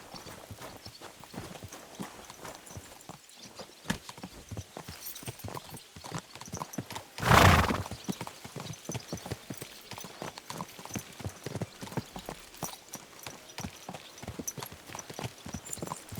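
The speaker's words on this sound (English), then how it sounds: "So mount up and we'll ride out." Horse hooves clip-clop steadily on the ground while riding in Kingdom Come II, a brisk continuous rhythm close by, with a brief louder whinny or rustle midway.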